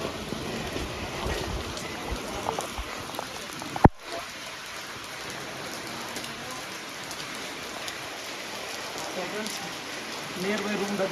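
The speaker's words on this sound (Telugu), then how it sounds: "వర్షం కూడా చాలా పెద్దదవుతుంది." Heavy rain pours steadily over a tour group nearing their room, a constant broad wash with one sharp thud near the start and faint voices underneath.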